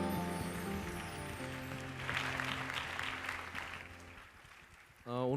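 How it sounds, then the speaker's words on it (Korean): Audience applause at a church gathering, a moderate wash of clapping under lingering musical tones, fading out before a voice begins speaking near the end. "크게 박수하겠습니다"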